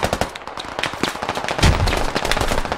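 A grenade explodes in the tactical shooter Squad, a heavy low thump rising out of dense, rapid gunfire with crackling shots throughout; the blast lands near the end, loud and close.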